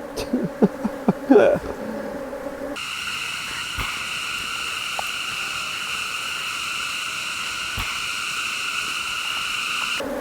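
Honey bees buzz densely around a beekeeper's head during hive work on an overcast day after rain, a steady close insect drone with a few brief knocks and rustles at the start.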